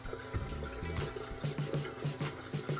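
Cold water running and splashing at a bathroom sink as a face is rinsed after shaving, a steady wet stream with irregular splashes close by, no talking.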